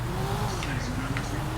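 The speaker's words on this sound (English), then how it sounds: "That car sounds like it's going so fast when it's not going anywhere." A roleplay video game car engine drones steadily at high revs without moving, a sustained whining tone that slowly dips in pitch, with talk over it throughout.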